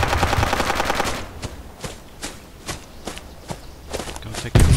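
Gunfire in the military video game Project Reality, a loud sustained automatic burst followed by scattered single shots and thuds, fairly close, with a heavy blast at the end.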